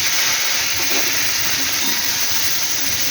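Raw tomato and green chili go into hot oil seasoned with nigella seeds, giving a loud, steady sizzle and hiss that runs unbroken from start to finish with no voices.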